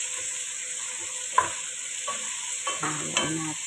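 Tomatoes stirred in a frying pan, with a soft steady sizzle and a few scraping knocks of the utensil against the pan, close and clear with no talk.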